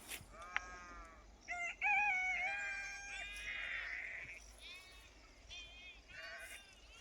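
Several sheep bleat in a wavering, overlapping series, close by, grazing in a cotton field, with fainter calls continuing in the background over low ambient noise.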